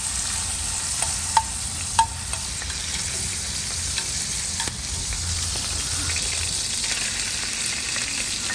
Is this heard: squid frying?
yes